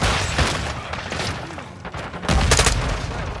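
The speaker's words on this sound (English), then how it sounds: "Throwing flash grenade." In Call of Duty: Modern Warfare II, a flash grenade goes off amid gunfire, with dense rattling shots and a sharp burst late on, loud and close in a busy combat mix.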